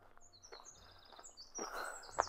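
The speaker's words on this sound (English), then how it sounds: "Blackbirds." Blackbirds call in an open park on a castle hill, a series of thin, high whistled notes at moderate distance, joined by a brief louder rustle and a sharp chirp near the end.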